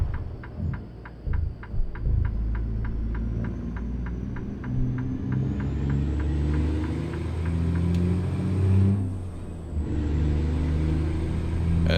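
Western Star 4900SF truck in American Truck Simulator, a deep steady diesel rumble with a rhythmic ticking indicator over it, engine note rising slightly as it pulls through a turn.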